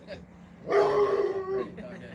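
A small dog at a winery gives a short whining, yelping bark in the middle, with people talking quietly around it before and after.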